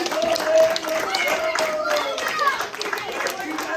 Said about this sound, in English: Let's give my planets a big clap!